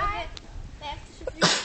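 A sneeze bursts out near the end amid a group of people counting and talking in Danish during a playful baseball bat game.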